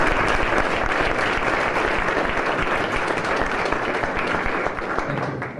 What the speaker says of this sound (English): Could I have just a round of applause for all the folks that